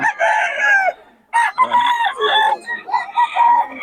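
Several loud, close rooster crows overlap one another in quick succession, harsh and raspy, with no talking.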